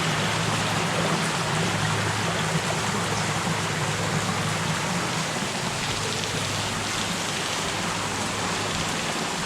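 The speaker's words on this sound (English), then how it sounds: "all that water trickling down" A dense, continuous rush of water trickling and splashing at the mouth of Sauta Cave in Jackson County, Alabama, steady and loud like heavy rain for the whole stretch, with no voices.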